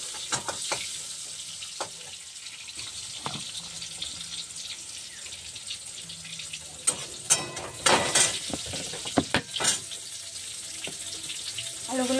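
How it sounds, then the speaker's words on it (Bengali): Potatoes sizzle in hot oil in a pan, a moderate steady hiss running throughout, with scattered clatters and scrapes of stirring, loudest around the middle. "এবার আমি আলুগুলোকে তেলের পর ছেড়ে দেব। আলুগুলোকে ছেড়ে দিয়ে একটু নাড়াচাড়া করে নেব।"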